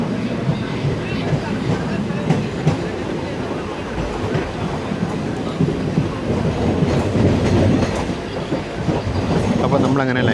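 Unreserved second-class passenger train running toward Shoranur, a loud, steady rumble of wheels and rattling carriages with faint clickety-clack over rail joints throughout.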